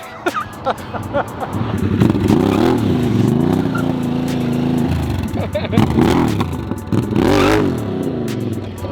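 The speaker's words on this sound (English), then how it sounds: "So rev limiter sounds like" A Harley-Davidson Sportster S motorcycle engine revs hard and repeatedly bounces against its rev limiter, a buzzing stutter of rising and falling pitch, with people talking over it.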